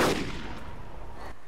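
A single sniper rifle shot in a video game, one heavy blast at the start that rolls off into a fading echo over a second or so, with nothing else heard.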